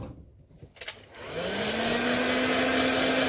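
A heat gun used to set paint on a fishing lure starts after a few soft clicks and handling noises, then rises into a steady, loud whirring blast with a rising whine that settles to an even tone.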